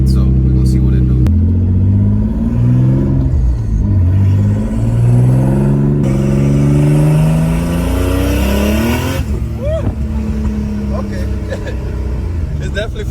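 A rebuilt twin-turbo Nissan 300ZX pulls hard from inside the cabin, with its engine loud and close as it climbs through the revs and shifts in repeated rising sweeps. Voices talk over it at times.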